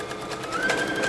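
Sewing machine stitching a back stitch while attaching a fabric bow to a garment hem, a steady close whir with a rising motor tone, heard alone without talk.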